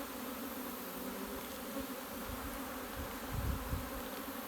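Honey bees buzz steadily around an open hive during a summer split, a dense continuous drone close by and alone, swelling briefly louder near the end.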